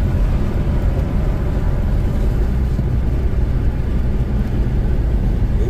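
Constant loud rumble of a car on the road, with engine and tire noise filling the whole stretch and no voices heard.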